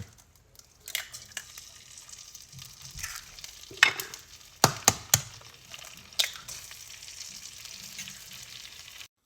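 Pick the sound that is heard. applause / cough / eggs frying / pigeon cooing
eggs frying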